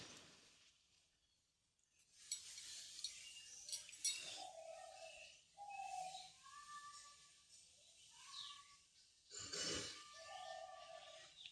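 Vegetables seasoned with salt, turmeric and sugar are stirred in a pan for a vegetable chop filling, giving intermittent metallic clinks and scrapes of a spoon against the pan, with brief ringing tones between quieter pauses.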